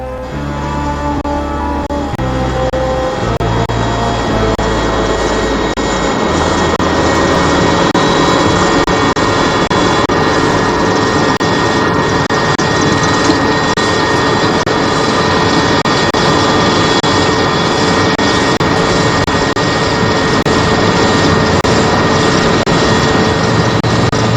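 Military aircraft engines drone loudly and steadily at close range, a continuous heavy roar carrying South African troops in wartime that holds without a break for the whole stretch.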